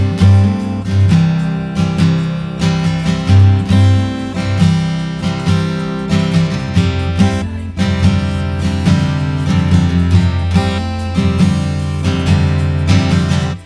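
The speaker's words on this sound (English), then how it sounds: "that pretty much takes care of the verse part for the acoustic guitar" Acoustic guitar plays the looping verse part of a song: strummed chords ring out close and loud in a steady rhythm, alone with no voice.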